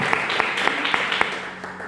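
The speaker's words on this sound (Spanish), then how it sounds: "Vamos a dar un aplauso a la palabra" Church congregation applauding during a Christian sermon, a short burst of clapping with a few distinct louder claps standing out over the general patter.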